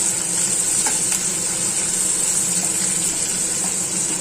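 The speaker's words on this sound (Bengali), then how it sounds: "এবার পেঁয়াজটা দেবো" Onions frying in a pan for paneer bhurji give a loud, steady, unbroken sizzle close up, a dense hiss that holds evenly throughout without any voices.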